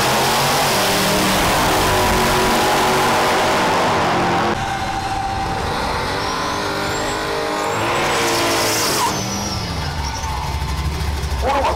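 A 1986 Chevy Camaro launches in a drag race. A loud, close engine roar with hard revving lasts about four seconds, then drops to a lower, continuing drone with whining tones and a brief squeal-like streak near the end.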